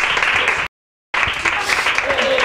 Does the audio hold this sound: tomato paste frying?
no